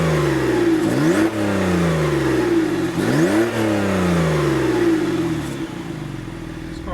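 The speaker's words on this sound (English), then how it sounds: "the exhaust noise is something you didn't really expect from the smaller engine" A 2017 Porsche Carrera S with its turbocharged engine and optional sport exhaust switched off pulls hard through repeated upshifts, each rising growl cut by a brief gear-change dip, loud and close before easing off at the end.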